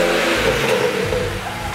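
A BMW 335i with the N54 engine and an MHD stage 2+ tune revs in a loud, close, throaty roar that rises and eases back over under two seconds.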